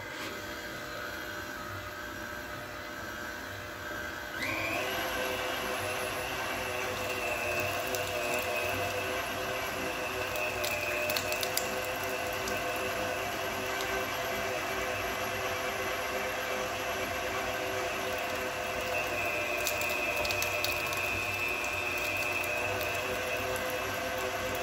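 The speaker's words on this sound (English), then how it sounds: "This is my pork butt and my bacon, and we will start grinding." A KitchenAid mixer grinder attachment set to coarse grind runs steadily while grinding pork butt and bacon for sweet Italian sausage, a constant motor whine and hum that grows louder after a few seconds and carries on alone.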